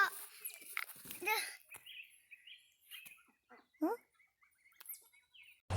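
Turken chicks and exotic guinea fowl keets chirp in a brooder, high thin peeps in short bursts and runs, near and moderately quiet, with a person talking over part of it.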